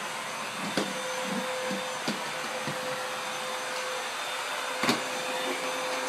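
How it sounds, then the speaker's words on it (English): A vacuum cleaner runs steadily on a ceiling with a constant close whine, and a few sharp knocks and bumps are heard as the nozzle hits the surface. "he is vacuuming the ceiling"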